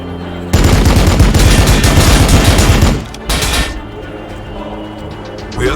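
Rapid automatic gunfire in Warhammer 40k: Battlesector rattles loud and continuous for a few seconds, stops, then a shorter burst follows before the clip settles into quieter battle ambience.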